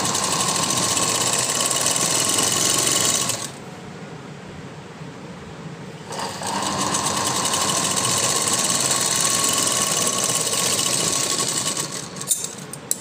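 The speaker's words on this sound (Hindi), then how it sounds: "ये किनारा है इसलिए मैं बिल्कुल किनारे पर सिलाई ले रही हूँ" An electric sewing machine runs steadily, stitching along the edge of a floral frock, pausing for about three seconds midway before resuming its continuous whirring hum until the end.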